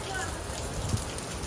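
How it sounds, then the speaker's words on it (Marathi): Heavy rain pours down outdoors as a dense, even wash of noise, faint and somewhat distant, with a voice speaking briefly over it. "लयच पाऊस आलेला आहे बघा वरती."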